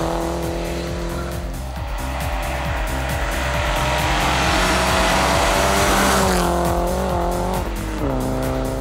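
Identical Volvo rally cars from the 2003 Volvo Original Cup, a Dutch championship, race at the Conrad EuRegio rally, with loud, close engines revving through gear changes and tires squealing throughout.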